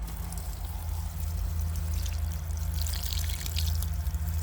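Water pours steadily into a sieve while cactus seeds are washed, a continuous close trickling stream with light splashes that grow brighter toward the end, and no talking.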